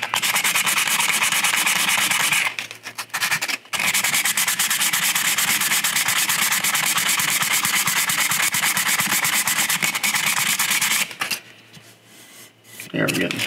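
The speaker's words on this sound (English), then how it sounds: "I really just want to sand that where it chips." 40 grit sandpaper sanding a 1/4 scale Spider-Man sculpture: steady, loud, rasping back-and-forth scrubbing that runs almost continuously, with two brief pauses.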